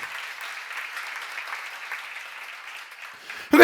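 Audience applause during a church seminar sermon on John chapter 7, a steady wash of clapping that holds at a moderate level for several seconds before a sharp louder burst at the very end.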